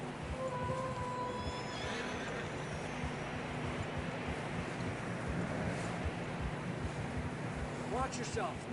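Snowy mountain trail in Red Dead Redemption 2 with a steady roar of wind and blowing snow, a horse's faint whinny early on and hoof movement, with muffled voices in the background.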